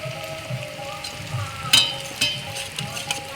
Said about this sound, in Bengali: জল দিয়ে দেবো পনিরের জলটাই দিয়ে দিচ্ছি